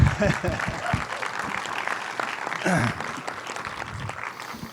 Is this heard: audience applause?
yes